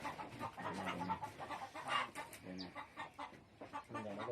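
Fighting cocks clucking in a coop, a steady run of close, overlapping clucks and calls that fills the whole stretch.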